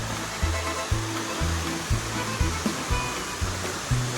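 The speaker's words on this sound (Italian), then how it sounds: "Piccola cascatina" A small waterfall beside a mountain trail in the Val Zoldana gives a constant rushing wash of water. Regular low thumps recur about every half second underneath it.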